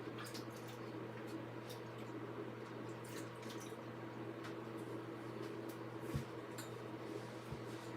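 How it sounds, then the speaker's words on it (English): A paint stencil dunked and washed in water, soft continuous sloshing and squishing close by at low level, with a low steady hum underneath and a couple of small knocks. "So I'm going to dunk that in my water."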